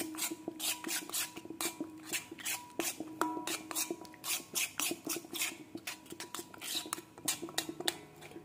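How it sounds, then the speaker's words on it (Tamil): A spoon stirs curd into a natural hair dye paste in an iron pan, producing repeated close scraping and clinking strokes in a steady, brisk rhythm. "ஸோ இப்போ கர்ட் ஆட் பண்ணி நம்ம நல்லா வந்து மிக்ஸ் பண்ணிக்கலாம்"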